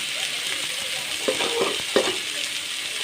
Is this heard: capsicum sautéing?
yes